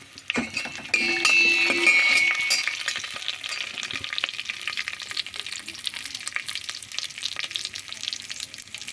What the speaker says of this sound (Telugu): ఆవాలు జీలకర్ర వేగుతున్న తర్వాత ఎండుమిరపకాయలు వేయాలి